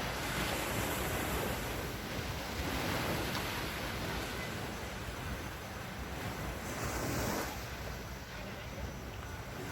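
Steady surf from sea waves breaking gently on the sandy shore of Sai Kaew Beach, a continuous broadband wash with wind buffeting the microphone throughout.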